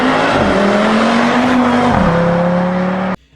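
An Audi RS3 engine revs hard under acceleration, its rising note dropping with each gear shift before climbing again, loud and close, then cutting off abruptly at the end.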